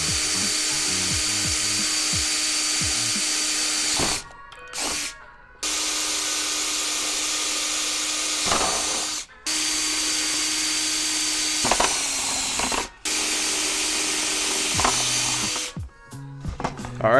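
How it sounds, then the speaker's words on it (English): A power drill bores holes straight through a bracket in several loud whirring bursts, separated by short pauses and brief restarts, with no talking. "I'm gonna try to just drill straight through"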